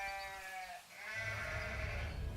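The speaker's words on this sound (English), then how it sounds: "who were tending to the family's sheep" A sheep bleats twice, close and clear, a wavering nasal cry followed by a second rougher bleat over a faint outdoor background.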